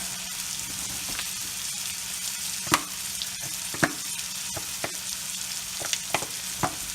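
Garlic sizzles in a pan while ham and sides are cooked, a steady hissing fry close by with a few sharp taps and pops now and then, and no talk.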